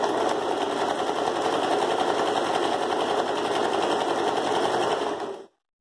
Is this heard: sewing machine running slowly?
yes